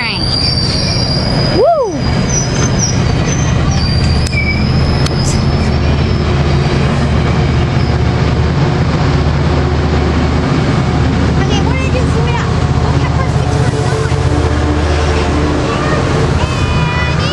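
Passenger train 690, a doubleheader with two bicycle cars, passes through San Juan Capistrano, its loud rumble and rushing wheel noise running throughout with a brief horn-like rising tone early on and people talking and cheering nearby.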